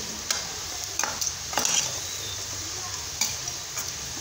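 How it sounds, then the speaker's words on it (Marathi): Pieces of elephant foot yam frying in hot oil until golden brown: a steady close sizzle with a few sharp clicks of a stirring spoon against the pan. "1 मिनिट अशा फोडी गोल्डन ब्राऊन होईपर्यंत तळून घेऊ."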